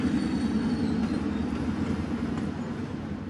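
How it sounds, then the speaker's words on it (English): An Amtrak passenger train rumbles steadily at close range as it pulls into a station, a heavy low roar with faint wheel clatter and a thin squeal as it rolls in. "Right now we have an Amtrak train that just pulled into the station"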